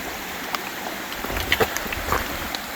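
Creek on the Ozark Highlands Trail at a rocky crossing, water running steadily in a soft broadband wash with a few brief splashes and trickles rising above it, near and fairly quiet, no voices.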